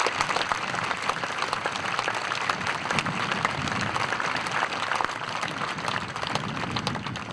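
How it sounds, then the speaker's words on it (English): A crowd at a memorial ceremony at Torrance High School gives a sustained round of applause, dense steady clapping filling the space without speech, moderately loud from a large audience. "give the Torrance High School Association student body a round of applause"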